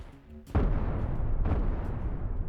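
Ship cannons fire in the space-combat game Cosmoteer, two heavy booming volleys about a second apart over a dense, continuous rumble of battle, loud and close with no talk.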